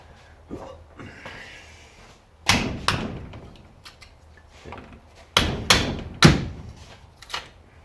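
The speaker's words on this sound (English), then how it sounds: "we will just whack it in the vise" Scrap metal being whacked into a vise, several sharp loud metallic knocks and thuds in irregular bursts, close by, with quieter handling noise between.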